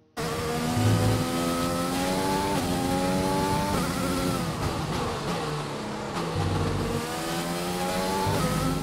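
Formula 1 race car on a qualifying lap in F1 2020, engine screaming loudly and steadily with repeated upshifts and downshifts, pitch rising and dropping through corners, no voices.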